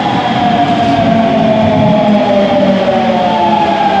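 A train rumbles steadily throughout a ride in Osaka during a change between lines, with a loud continuous roar and a faint tonal hum running through it. No voices are heard.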